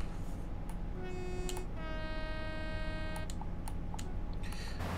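A train in the Train Sim World 2 simulator, Great Western Express route, sounds several clear horn toots, including a long sustained blast, over a steady rumbling running noise.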